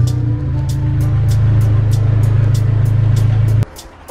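Honda S2000 pulling in, a steady low engine idle and drone held close and loud before cutting off abruptly near the end.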